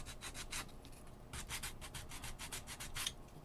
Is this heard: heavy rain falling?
no